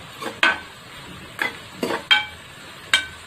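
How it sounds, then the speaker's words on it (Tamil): Crushed garlic and onions sauté in a pan for country chicken kuzhambu, with five or six distinct spoon scrapes and clinks against the pan over a faint sizzle, close and unhurried, with no talking. "வெள்ளைப்பூடு வெங்காயம் நல்லா வதங்கட்டும்"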